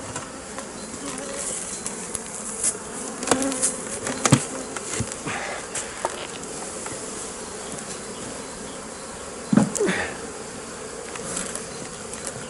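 Honeybees buzz continuously around an opened beehive during a colony split, a dense close drone with individual bees whizzing past the microphone and a few sharp handling knocks.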